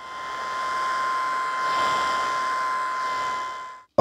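A Vacutrim hair trimmer with a built-in vacuum runs steadily during a trim at a sink. It makes a constant whirring hum with an airy suction hiss, close and unbroken for about four seconds before stopping.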